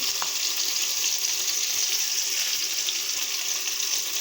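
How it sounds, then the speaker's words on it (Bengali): Chopped onion, garlic and green chili sizzle in a frying pan after prawns have been fried, giving a continuous hissing crackle that stays close and even with no voices. "ভাজি করে নেওয়ার পরে পেঁয়াজ কুচি দিয়ে দিলাম রসুন কুচি কাঁচা ঝাল ফেলে"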